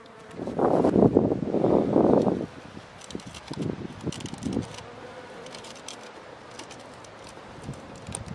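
Honeybees buzz loudly as a hive is opened, a dense droning hum in two bursts up front, then thinner scattered buzzes and faint rustling trailing off.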